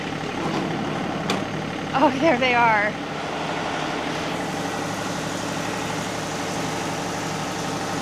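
A tractor idles as it arrives at an entryway planting site, a loud, steady engine drone that continues for the whole stretch while a person speaks briefly near the start.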